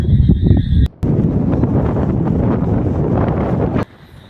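Heavy cyclone wind buffeting the microphone at Kovalam beach on Chennai's ECR coast, a loud continuous roar that drops out briefly near the start and again at the end.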